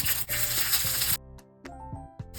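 Mustard seeds, ginger, garlic and green chilli hit hot coconut oil with a loud, bright sizzle, which cuts off abruptly, followed by a few short clinks and a murmuring voice.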